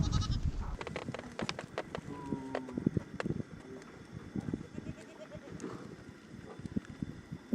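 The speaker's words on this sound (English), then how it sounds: "the wife Doma uses wool ropes to tie dozens of goats together" Goats bleat repeatedly amid a busy outdoor scene as dozens are tied together with wool ropes, with scuffling, knocks and rustling; several animals call at once from close by.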